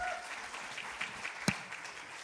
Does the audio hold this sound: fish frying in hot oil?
no